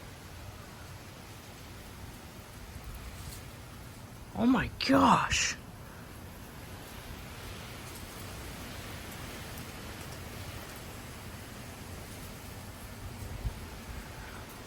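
Steady rain pours during a severe thunderstorm with 45 mph wind gusts in Frisco, Texas, a constant hiss close by, broken by a brief exclaiming voice.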